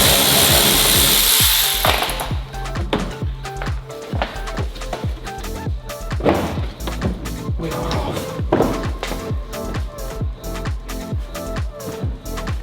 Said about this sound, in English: now I'm in the wheel arch undoing the 3 bolts that are connecting the rear bumper to the wheel arch itself